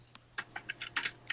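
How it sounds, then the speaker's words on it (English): Typing on a computer keyboard, a quick irregular run of light clicking keystrokes picked up close by a microphone against a low steady hum. "I can hear somebody typing."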